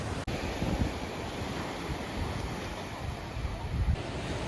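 Ocean surf rolling onto Black Rock Beach, Maui, a popular snorkeling spot, with steady wind buffeting the microphone and a sustained low rush of breaking waves swelling slightly toward the end.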